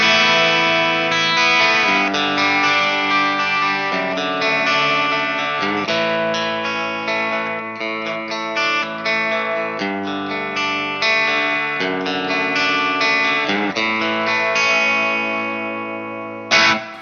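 Distorted electric guitar with Fender Texas Special pickups, on the bridge pickup, playing chords and riffs with a bright, slightly biting tone and some effects, loud and continuous with brief pauses between phrases.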